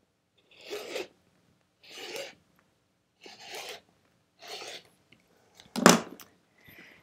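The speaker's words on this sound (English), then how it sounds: "We're gonna cut on this 8-inch mark." Quilt border fabric for a chevron quilt is cut at the 8-inch mark. Four short rasping strokes come at even intervals, then a louder, sharper one and a faint final scrape, all close and separated by silence.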